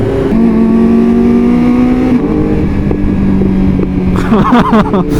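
A BMW M1000RR superbike runs with a loud, close, droning exhaust note that shifts pitch, then breaks into a burst of sharp crackling pops near the end.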